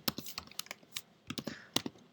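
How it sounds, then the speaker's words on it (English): Typing on a computer keyboard while coding JavaScript: quick, uneven clusters of crisp key clicks close to the microphone, with brief pauses between bursts and no talking. "let me start typing here"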